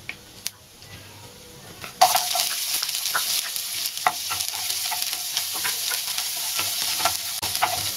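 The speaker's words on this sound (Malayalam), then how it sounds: "ഇതിലേക്ക് നമുക്ക് അരിഞ്ഞു വെച്ചിരിക്കുന്ന ചെറിയുള്ളി ചേർത്ത് കൊടുക്കുക" Chopped shallots hit hot oil with mustard seeds and urad dal for bread upma: a quiet start, then a sudden loud sizzle from about two seconds on, with spatula stirring and scraping sounds over the frying.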